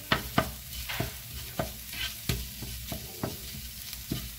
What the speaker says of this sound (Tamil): இப்போ இது கூட ஒரு தக்காளியும் சேர்த்துக்கோங்க. நல்லா வதக்கி விட்டுடுங்க.